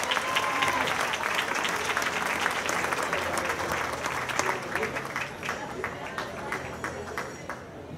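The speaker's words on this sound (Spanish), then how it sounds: "un aplauso a este gran grupo que hace Huauchinango" Crowd applause at an outdoor fair concert in Huauchinango's central garden, dense clapping from many people filling the whole stretch and thinning slightly toward the end, with a faint voice beneath.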